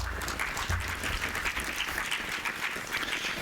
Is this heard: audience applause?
yes